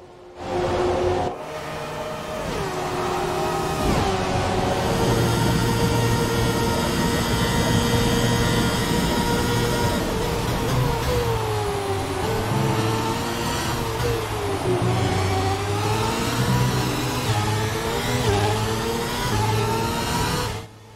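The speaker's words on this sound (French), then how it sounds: "On vous laisse vraiment profiter du son de ces moteurs" Formula 1 cars in the F1 2017 video game scream near the rev limiter at the Mexican Grand Prix, a loud, sustained high-pitched engine wail with rising and falling gear-change sweeps, heard alone without commentary.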